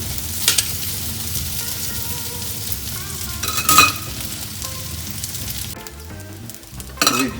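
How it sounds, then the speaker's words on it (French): Aromatic vegetables sweat in foaming butter in a pan, giving a steady close sizzle with scattered clicks and scrapes of stirring throughout. "On va faire mousser le beurre. Et on ajoute la garniture aromatique qu'on a préparée tout à l'heure. Maintenant, on va la laisser suer."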